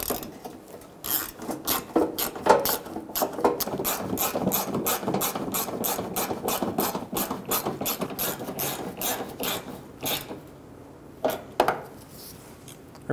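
A ratchet wrench tightens bumper bolts on a 2000–2007 Ford Focus during a front bumper cover replacement, its pawl clicking in rapid, steady runs close up, with a brief pause and a few final clicks.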